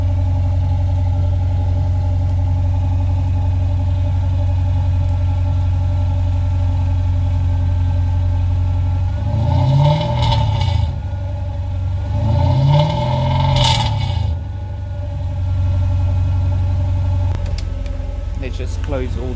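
A Mercedes-Benz CLS 350 (W219) engine idles steadily with a soft, muted exhaust, then revs up twice in quick succession before settling back to idle, heard up close in a garage.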